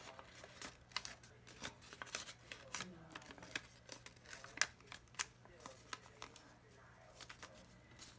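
A sheet of paper being folded into a ninja star gives crisp, close rustles and sharp creasing snaps in an irregular run, with a voice faintly in the background.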